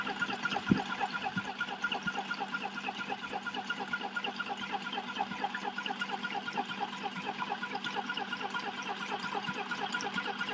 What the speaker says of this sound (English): I'll rinse that bucket out in here too